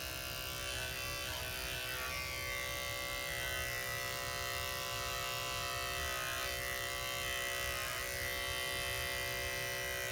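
Electric dog clippers trim a natural, flat-laid dog ear, giving a steady, close buzzing hum that runs unbroken with no talk.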